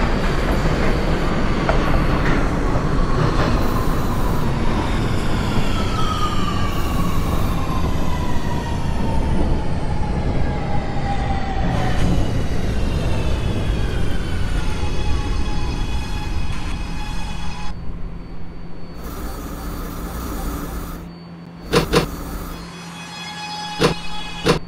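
An R211A subway train on the A line toward Far Rockaway runs in the OpenBVE train simulator, a loud motor whine sliding downward over rumbling wheels as it slows, then quieter rolling with sharp bursts of clatter near the end.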